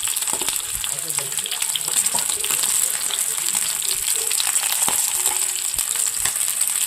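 Chilapi fish fries in hot oil with a steady, dense sizzle throughout, broad crackling hiss with scattered pops, moderately loud and close, no talk over it.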